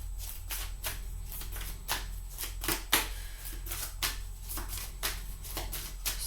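Tarot cards are shuffled and pulled close by, with repeated quick riffling swishes and soft slaps in a steady, uneven rhythm. No one speaks.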